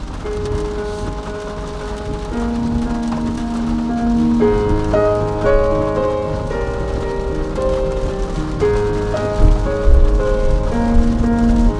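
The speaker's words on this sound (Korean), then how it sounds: "빗소리랑 되게 잘 어울리네요" Steady rain patters on a BMW 330e car throughout, beneath loud, sustained music playing the whole time through the car's Harman Kardon sound system.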